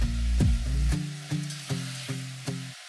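Roughly chopped tomatoes and mixed vegetables cook on a tava for street-style pav bhaji, giving a light sizzle that runs under louder tonal sounds with a few sharp knocks.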